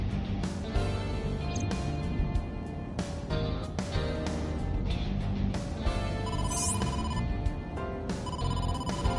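A telephone rings repeatedly for an incoming call in a detective video game, its steady electronic ringtone layered over a dense musical score throughout.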